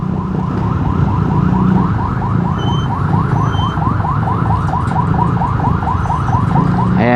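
An ambulance siren wails in a rapid, steady warbling cycle throughout, loud and close amid traffic with a constant rumble of engines beneath it.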